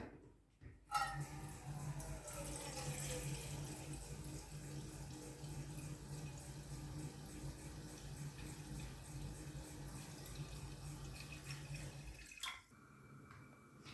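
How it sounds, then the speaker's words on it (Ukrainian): A wide cooking pot filling with tap water from a kitchen faucet, a steady close rush of running water for most of the stretch before it cuts off near the end. "Спочатку нам треба набрати води."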